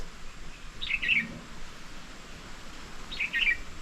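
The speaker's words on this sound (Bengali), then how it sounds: "আর এই ভোরবেলা পাখির ডাক একেবারে স্পষ্ট শোনা যায়।" Birds call at dawn in an Andaman village garden, with two short bright chirping bursts a couple of seconds apart over a low, steady background hum.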